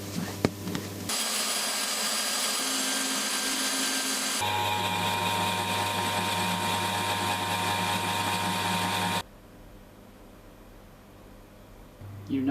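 A machine tool cuts metal under heavy load, a loud steady grinding whine that shifts pitch in stages and then drops to a quieter idle hum near the end, with no talk.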